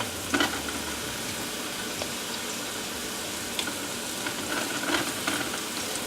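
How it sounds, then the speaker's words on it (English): King oyster mushrooms searing in a frying pan, a steady even sizzle throughout with a few faint clicks and small pops, moderately quiet and without talk. "So we're going to place them in the bottom of the pan. We're going to get them brown on both sides."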